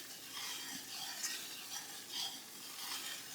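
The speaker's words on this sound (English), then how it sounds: "we're going to start stirring" Flour roux being stirred in a pan for giblet gravy, a soft steady scraping with a faint sizzle, quiet and continuous, with no voice over it.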